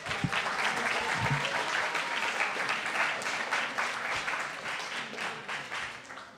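An audience at a CodeDay Bay coding event applauds the presenters: dense, sustained clapping from a room full of people, steady throughout and fairly close, with a faint voice or cheer briefly under it.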